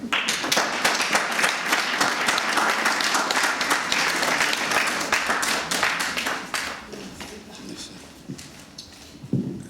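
A crowd applauds at a charity evening in Brussels with dense, sustained clapping that fades toward the end, where a voice briefly speaks.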